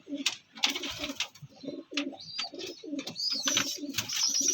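Several Rampuri pigeons coo in repeated low, throaty phrases close by, with a few faint chirps and rustles between the calls.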